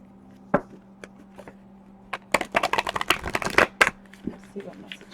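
A new, thin-papered deck of oracle cards is shuffled by hand: a few isolated taps, then a quick burst of crisp riffling flutters, up close, with a voice speaking at moments.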